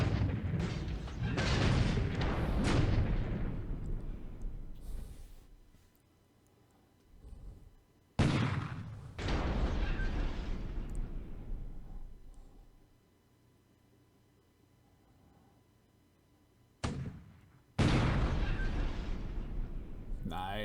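In a World War II naval strategy video game, shells hit a ship as a series of heavy booming explosions with long rumbling decays. Three main blasts are separated by quieter gaps.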